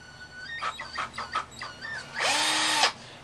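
A power drill runs in a few short stop-start bursts, then whirs steadily for about half a second before cutting off; close and fairly loud.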